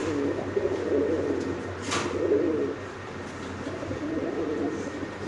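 Giribaz and beauty pigeons coo steadily at a pigeon farm, a low continuous murmur of overlapping calls with a brief brighter flutter midway, close and moderately loud throughout.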